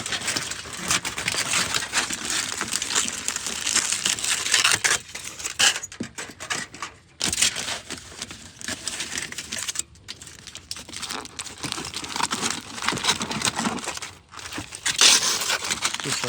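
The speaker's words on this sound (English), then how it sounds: "I'm just gonna wrap it in some foil" Aluminium foil is crinkled and crumpled around food close by, with a continuous crackling rustle that stops briefly at intervals before resuming.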